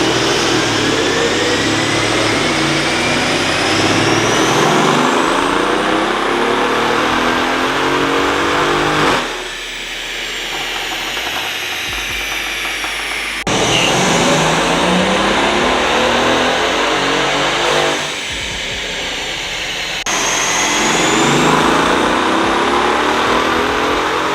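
A Mercedes CLS550 with the M278 twin-turbo V8 runs a dyno pull on 93 octane, its engine revving and climbing repeatedly in long rising sweeps, loud and close, with brief drops between pulls.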